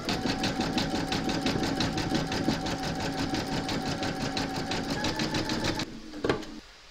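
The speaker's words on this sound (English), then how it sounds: "pop your hoop into your machine and stitch round number 8, and that's going to zigzag along this line and join both to the hoop" An embroidery machine zigzag-stitches a large Mrs Claus applique held in the hoop, a steady fast rhythmic whirring and clatter that runs loud and unbroken for most of the stretch, then stops abruptly, leaving a faint knock or two.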